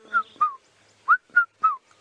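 A cuckoo on a sunrise safari drive calls five times, clear whistled notes in two pairs with a longer gap before the last, fairly close and alone with no talk.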